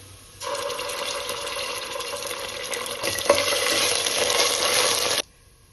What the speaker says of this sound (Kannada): ಈಗ ಉಳ್ಳಾಗಡ್ಡಿ ಫ್ರೈ ಆಗ್ಯಾವ. ಇದಕ್ಕೆ ಶುಂಠಿ ಬೆಳ್ಳುಳ್ಳಿ ಪೇಸ್ಟ್ ಹಾಕೊಳ್ಳೋಣ್ರಿ.